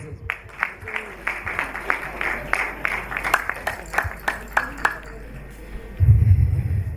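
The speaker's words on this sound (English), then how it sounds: "Give her a round of applause." Scattered clapping from a small audience at an awards ceremony, sharp individual claps at an uneven pace, thinning out before a low rumble of voices rises at the end.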